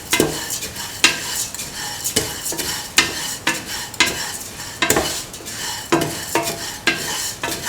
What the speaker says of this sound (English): Salt and mix the vermicelli pasta with the shallots. Keep on sauteing.